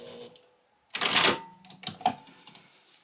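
A sewing machine runs a short burst of stitches basting a fabric exterior onto a zipper along a straight edge, with a rapid clatter followed by a few lighter clicks and taps.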